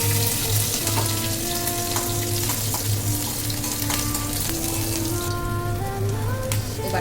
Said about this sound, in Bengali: এবার আমি একটু জিরে ফোড়ন দিচ্ছি আর কাঁচা লঙ্কা ফোড়ন দিলাম।